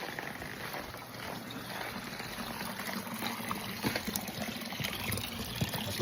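Warm natural hot spring water trickles from rocks outdoors, a soft continuous flowing wash with occasional small splashes, moderately close.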